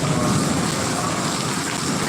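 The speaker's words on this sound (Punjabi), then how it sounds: "ਮੀਂਹ ਪੈ ਰਿਹਾ" Steady, dense downpour of heavy rain with hail in Dusanjh Kalan village, Punjab, hissing continuously throughout, with a low rumble underneath and no voices.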